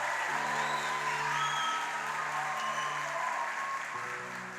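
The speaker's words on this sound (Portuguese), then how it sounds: "Vamos aplaudir esse casal." A church congregation applauds steadily at an anniversary worship service, a dense wash of clapping filling the room for several seconds while a sustained organ or keyboard chord holds underneath.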